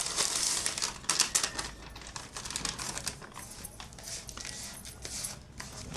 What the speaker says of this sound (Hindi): इसका पैकेट काट के शक्कर जो है ना, इसको हम डालेंगे एक बोल में।